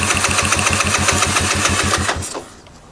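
A Grom clone motorcycle engine runs on choke with a rapid, even putter and loud close exhaust pulses for about two seconds before it sputters and dies away.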